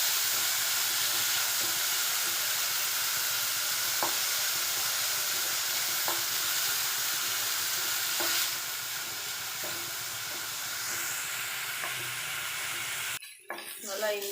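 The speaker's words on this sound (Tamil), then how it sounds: "நல்லா வதக்கி விடணும்" Masala sautéing in a pan for egg and drumstick masala, a steady broad sizzle with periodic soft stirring scrapes, close and continuous, ending in a sharp clatter near the end.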